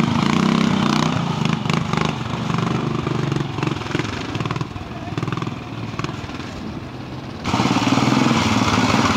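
A BSA B40 motorcycle rides a trial section in Branshaw quarry, its single-cylinder engine thumping loud and close with a steady rough drone, dipping slightly mid-way before revving up again near the end.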